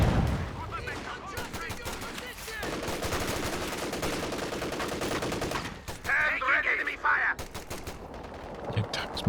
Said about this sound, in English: Machine gun going to work